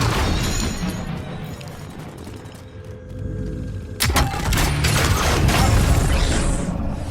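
Rocket and bomb explosions in the Warzone video game, a sustained roar of blasts and crashing debris that swells sharply midway into a loud, dense barrage and stays heavy to the end.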